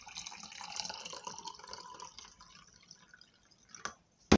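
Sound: warm water poured into a glass cup

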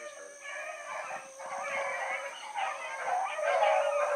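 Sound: deer hunting dogs baying while running in a pack

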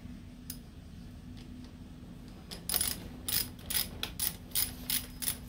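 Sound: tightening a bolt on a Kawasaki motorcycle lever

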